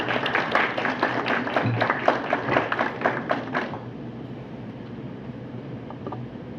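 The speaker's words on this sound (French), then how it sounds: "sur vos applaudissements, s'il vous plaît." Audience applause at an opening ceremony for an audit week, a dense burst of clapping from a crowd that fades out after about four seconds, leaving quiet room noise.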